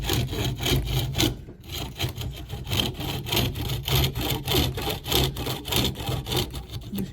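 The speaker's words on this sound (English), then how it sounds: "using the tenon saw, I'm going to cut down with the grain at the moment" A tenon saw cuts down along the grain of a wood workpiece for a haunched mortise and tenon joint. The strokes are steady, rhythmic and rasping, close up and continuous, with no talk.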